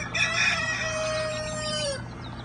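Chickens at a farm animal sanctuary, with a rooster crowing in one long, loud drawn-out call over softer clucking and background farmyard noise.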